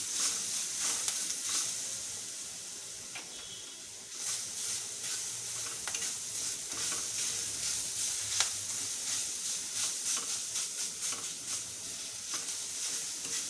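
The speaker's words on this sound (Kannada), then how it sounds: "ಇದನ್ನು ಫ್ರೈ ಮಾಡಿ. ಅದು ಎಣ್ಣೆಲೇ ಚೆನ್ನಾಗಿ ಸ್ವಲ್ಪ ಫ್ರೈ ಆಗಬೇಕಷ್ಟೆ." Pepper chicken fries in oil with a steady close sizzle and hiss, occasional stirring scrapes, and no talking.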